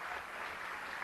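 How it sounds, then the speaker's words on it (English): An audience at the Slave Theater in New York gives a speaker a round of applause, a dense, even wash of clapping that holds steady for about a second. "Let's give him another round of applause."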